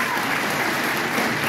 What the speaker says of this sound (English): So now you can applaud Brad and Elena.